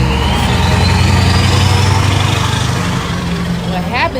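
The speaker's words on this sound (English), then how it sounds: "that's a loud ass truck" A loud engine drone from a passing truck rumbles close by, holding steady and then easing slightly, with a voice heard faintly over it.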